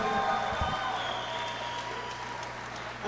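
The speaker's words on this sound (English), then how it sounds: "a big round of applause for both of these Rocktagon warriors" Crowd at a Rocktagon fight event applauding both fighters after a three-round bout, a sustained wash of clapping heard from a distance under the arena's low hum.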